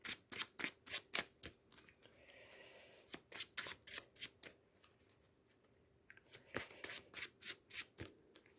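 Playing cards for the Marvel Champions card game are riffle-shuffled close by in several quick bursts of sharp, rhythmic flutters, with brief pauses between rounds.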